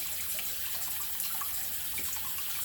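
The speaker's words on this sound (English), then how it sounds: "So just rub with the water and continue until you take all of it off" Water runs and splashes steadily from a tap while a clay face mask is rinsed off, a continuous close hiss with small sloshing bursts as hands rub at the skin.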